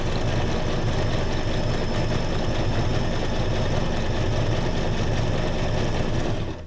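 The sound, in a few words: old sewing machine motor running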